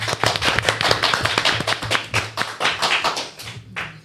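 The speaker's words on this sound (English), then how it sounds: "Let's give her a big round of applause." Applause for an honoured guest, the Atlanta honorary consul, at a media launch for a Marcus Garvey symposium: a small group claps in steady bursts for about four seconds, close and fairly loud, with a low hum underneath.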